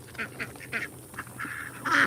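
Indian runner and khaki Campbell ducks on a farm quack in a run of short, bursting calls, a few overlapping and growing louder and more crowded toward the end, at moderate distance with no talk.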